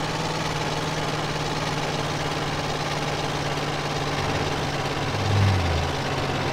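A van engine runs steadily in GTA San Andreas, its block held together with a macrame hammock and burning old cooking oil. It gives off a constant, close, low humming drone with a brief swell near the end.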